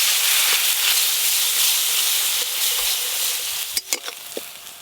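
Mixed vegetables with mustard paste, turmeric and dried chilli fry in a pan with a steady, close hiss and sizzle, and near the end a few sharp scraping stirs cut through.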